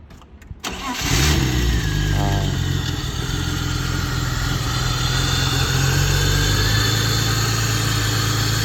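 A BMW E30 with a 3.0-litre straight-six and a full stainless steel exhaust cranks and fires up, settling into a steady, loud, close idle that runs throughout; a voice speaks briefly before the start.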